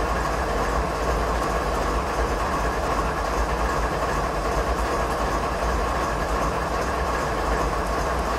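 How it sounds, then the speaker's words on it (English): A freight train in Train Simulator 2016 on the Stevens Pass route, led by a BNSF ES44DC locomotive, rumbles past a switch. The dense, steady rolling roar of wheels and wagons stays loud and continuous throughout. "Train's going past that switch."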